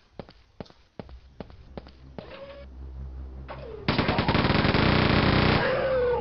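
Chaingun fire in Quake 2, with a few separate shots first and then a dense, fast stream of rapid fire that grows louder toward the end, loud and close.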